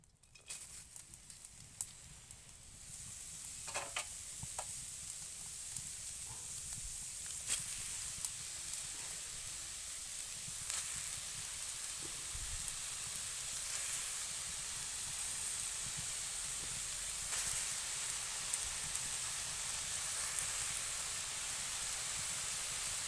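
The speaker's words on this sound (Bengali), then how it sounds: "এই দেখো, কুচানো শাকগুলোকে আমি দিয়ে দেবো কড়াইতে।" Chopped leafy greens fry in a wok with a soft, steady hiss and sizzle that runs continuously. Occasional light clicks and scrapes of stirring break through the quiet frying.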